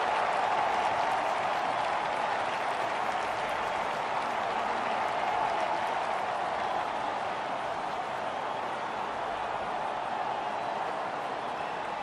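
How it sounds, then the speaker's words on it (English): Stadium crowd in the Don Bradman Cricket video game, Sunrisers Hyderabad vs Royal Challengers Bangalore, cheering a home bowler on a hat-trick: a dense, steady roar of applause and voices sustained for the whole stretch without letup. "The crowd are on their feet, cheering their home team hero to complete his hat-trick."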